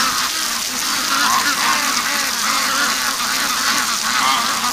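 Domestic ducks kept on a muddy backyard lawn honk and quack in a loose, continuous chorus, fairly close and steady throughout with no speech.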